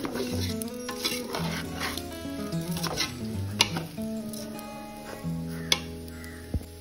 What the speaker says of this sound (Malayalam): അരി ഒന്ന് ഈ ഒരു നെയ്യിലോട്ട് ഇട്ട് വറുത്തെടുക്കാം